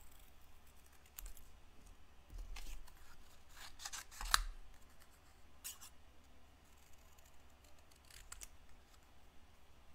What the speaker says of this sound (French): j'ai décidé de le découper avec mes ciseaux